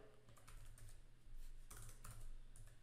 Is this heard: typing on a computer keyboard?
yes